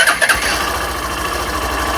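A Hero Glamour Xtec motorcycle engine fires up with a brief starter catch, then settles into a steady, close idle.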